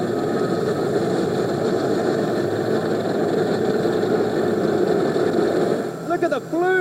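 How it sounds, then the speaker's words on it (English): Diesel engines of military tanks roll through the Victory Day parade in Red Square, Moscow, a loud, steady rumbling drone with a brief rising whistle near the end. "volumes of diesel coming off these tanks"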